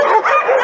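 Dogs at a shelter yelp and bark in a quick, dense burst, several voices close together and loud, with no talk.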